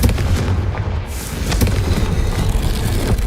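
A Confringo spell blast in the Hogwarts Legacy video game sounds as a loud, dense roar of booming, crackling impacts that runs continuously throughout, with no talking.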